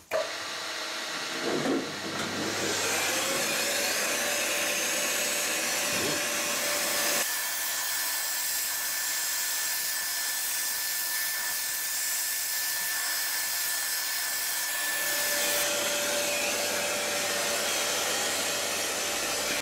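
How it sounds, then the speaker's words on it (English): A 5 mm machine reamer finishes holes in a metal adjustable angle plate. The machine gives a continuous, loud motor whir with tonal whine that changes pitch in stages as the cut progresses. "And I changed to a 5 millimeter machine reamer."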